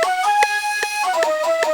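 Synthesized flute layer in an electronic music track, sustained bright tones moving through a simple melody with soft rhythmic pulses underneath, steady and close with no talking.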